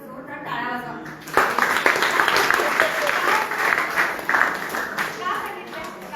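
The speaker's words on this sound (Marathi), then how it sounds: "आणि ना स्वतःसाठी तर जोरदार टाळ्या वाजवा" An audience in Kolhapur breaks into strong, sustained clapping after a brief spoken lead-in. The dense applause swells quickly, stays loud for several seconds with voices mixed in, then begins to thin slightly near the end.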